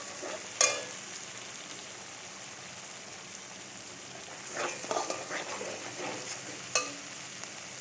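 Spice paste frying in oil in a pan for chickpea and paneer curry, a soft, steady sizzle with occasional stirring scrapes and a couple of sharp clinks of a spoon against the pan.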